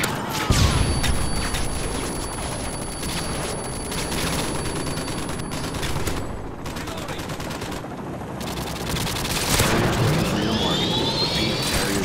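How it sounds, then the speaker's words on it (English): Harrier jets in Call of Duty: Modern Warfare 2, roaring over a continuous battle full of gunfire and bursts of automatic weapons, with a rising jet whoosh near the end and game radio voices heard in places. "Friendly Harriers inbound."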